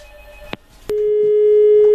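A telephone line goes dead after a call cuts off. A couple of sharp clicks are followed by a loud, steady electronic tone that holds unbroken to the end.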